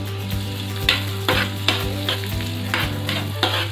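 Garlic fries in a pan for a garlic bread paste, giving a loud, steady sizzle. Regular scraping stirs break in about every second, with no voices.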